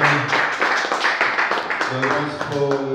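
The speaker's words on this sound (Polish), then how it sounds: "duże brawa dla pana Jana" An audience claps for Jan Kowalski, a Górnik Zabrze football legend, at a meeting in his honour. The applause is brief and steady, and a voice speaks over it.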